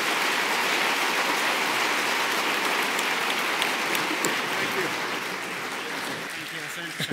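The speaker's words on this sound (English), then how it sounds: "let's have one big round of applause for this great man" Applause from a large audience at a public leadership forum in Kigali, sustained dense clapping like heavy rain, slowly fading near the end with voices surfacing.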